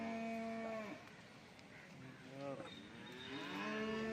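Large buffalo at a busy livestock market letting out drawn-out lowing moos, one long call, a shorter one in the middle, and another rising at the end, fairly close with background noise from the market.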